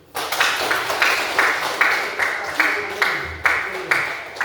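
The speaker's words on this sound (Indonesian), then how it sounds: "Beri aplaus dulu" Brief bursts of classroom clapping in a teacher-training lesson, rising in a series of short regular pulses at moderate loudness with a murmur of voices underneath.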